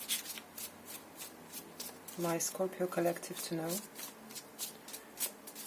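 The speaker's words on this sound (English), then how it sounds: "Another shuffle." Tarot cards are shuffled by hand in quick, crisp riffling bursts, close and clear, repeating throughout while someone speaks over part of it.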